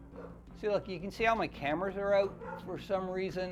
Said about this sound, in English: you can hear the dogs that are barking